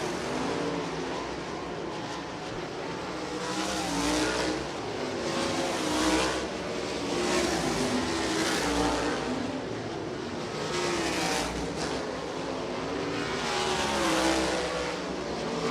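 Sprint race cars roar at speed around the Ocala Speedway dirt track in a USAC National Sprints event, a loud continuous engine drone rising and falling as the cars circulate.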